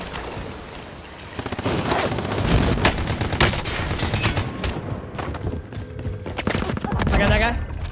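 FARA rifle fire in Warzone rattles in quick, dense automatic bursts with no pauses for recoil, loud and close, layered with other in-game action while someone talks over it.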